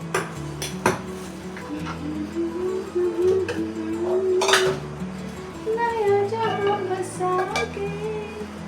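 Gram flour batter mixed in a metal bowl with a spoon, giving steady scraping, clinking strokes close up with occasional sharp taps against the rim, while someone talks over the mixing.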